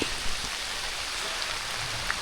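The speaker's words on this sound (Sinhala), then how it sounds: "ආශිර්වාදයක් වගේ වහින්න ගත්තා" Steady rain falls in a dry-zone forest, a dense even hiss of drops on leaves and ground with scattered louder patters, continuous and close, with no voices.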